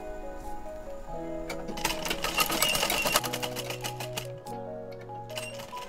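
Sewing machine stitching a back neck strip onto a kurta, a rapid close mechanical rattle that speeds up in the middle and then slows, with faint tonal hum underneath.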